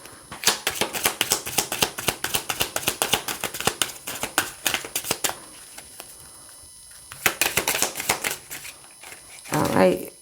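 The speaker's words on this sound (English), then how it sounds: "I can't seem to shuffle." Rapid bursts of papery riffling and flicking as oracle cards are shuffled close up, pausing briefly before starting again.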